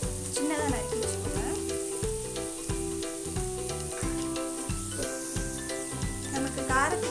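Onions sautéing in a pan for a goat blood fry, a loud, close, steady sizzle with continual stirring scrapes and clinks throughout, no voice over it.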